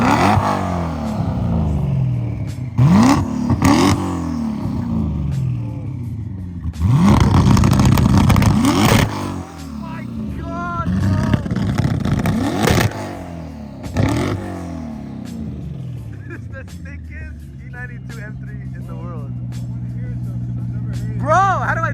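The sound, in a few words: twin turbo BMW E92 M3 revving with anti-lag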